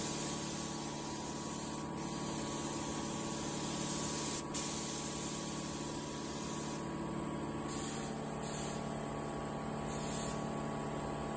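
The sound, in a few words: spray painting a BMW E36 fender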